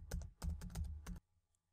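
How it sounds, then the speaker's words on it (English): A computer keyboard is typed on in a short, quiet burst of about half a dozen close clicks, then falls silent. "I'm going to type in acknowledgments"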